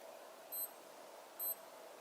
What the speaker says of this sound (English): the watch would alarm for 15 seconds and then automatically stops